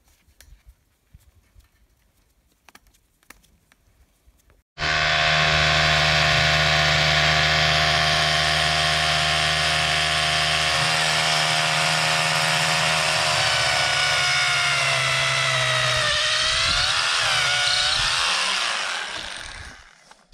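A loud, steady mechanical whine of a power drill boring into rock runs continuously for about fifteen seconds after quiet, then winds down.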